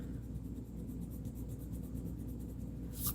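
A pencil sweeps around in a circle on sketchbook paper, giving a soft, continuous scratchy rasp that runs close and steady for a few seconds with no talking.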